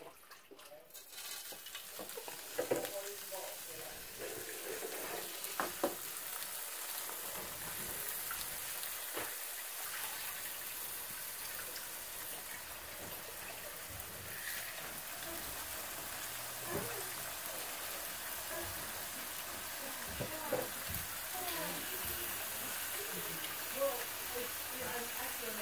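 Sirloin steaks sizzling as they sear in a pan, a steady hissing crackle that continues throughout, with a person talking faintly over it.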